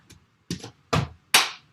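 Hand claps in a body percussion routine, four sharp, close strikes with short gaps, each louder than the last.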